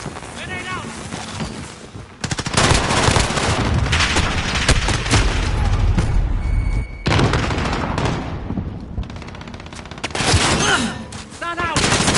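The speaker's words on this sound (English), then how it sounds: "Grenade out!" Call of Duty combat with a grenade blast and sustained gunfire, dense loud bursts of shooting that drop out briefly and resume, with brief shouted voices over the chaos.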